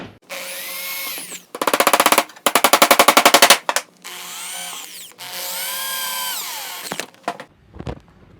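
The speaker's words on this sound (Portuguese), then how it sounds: "A gente sempre faz um furo com uma broca mais fina para dar aquela estabilidade" A power drill with a thin bit bores a pilot hole in wood while building a rustic retro nightstand. The drill whines loudly and up close in several bursts, some with rapid pulsing, separated by pauses.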